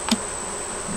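Honeybees buzz around a hive in a hot spell, a close insect drone with one brief louder buzz as a bee passes near.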